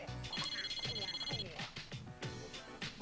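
A telephone ringing in the Persona 3 Portable video game, a rapid trilling bell tone repeating in quick bursts over game music, fairly faint.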